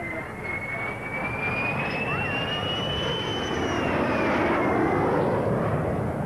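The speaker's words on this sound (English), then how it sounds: "The Farnborough Air Show of 1952 was packed to watch Derry fly supersonically in a new de Havilland fighter" A de Havilland DH-110 jet fighter flies at the 1952 Farnborough Air Show, a steady loud jet roar with a descending whine that sweeps past over about six seconds.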